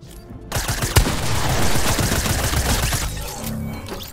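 Rapid automatic gunfire rattles in Fortnite Season 4, a dense, loud burst of rounds lasting several seconds before tapering off near the end.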